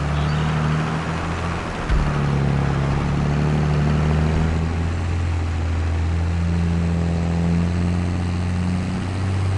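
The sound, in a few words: tractor engine straining, from video game Farming Simulator 22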